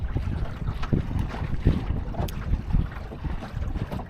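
A dinghy sails on Lake Ullswater, with constant wind buffeting the microphone and water slapping and splashing against the hull close by in irregular surges.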